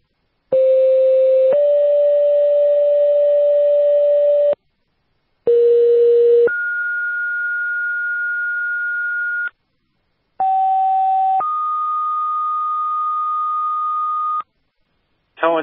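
Fire dispatch radio alert tones for a second-alarm working house fire in Newfane, Vermont: three pairs of steady two-tone pages, each a short tone then a longer one, loud and clean with silent gaps between.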